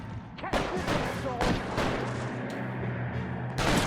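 Rapid gunfire in the L.A. Noire video game, several sharp cracking shots in quick bursts over a low background rumble, close and loud, with voices talking between the shots.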